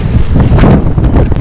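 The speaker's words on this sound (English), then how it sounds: "we are just leaving freshwater, and it's still pretty windy" Strong wind buffets the microphone on the Isle of Wight coast near Freshwater, a continuous loud rushing roar with low rumbling gusts throughout.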